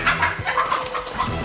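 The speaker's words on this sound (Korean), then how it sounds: "유독 한 마리의 어미닭만 공격한다는 오리 형제" A hen squawks and clucks frantically while being chased and attacked by ducks in a farmyard, with loud, close, agitated bursts of fowl cries and scuffling.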